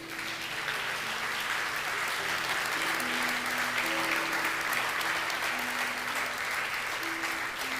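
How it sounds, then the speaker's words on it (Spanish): A church congregation applauds together in a sustained, even wash of clapping that fills the hall, with organ or keyboard notes sounding faintly underneath. "Dale un aplauso a Cristo"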